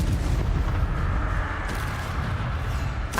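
An Incendio fire spell cast in Hogwarts Legacy sends out a loud, continuous roaring blast of flame that rumbles and whooshes evenly throughout.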